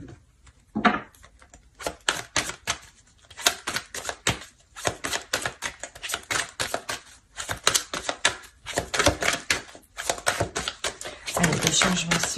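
Tarot cards being shuffled and drawn: rapid bursts of crisp card flicks and slaps, some close and sharp, continuing in uneven clusters with brief gaps, while a person talks intermittently.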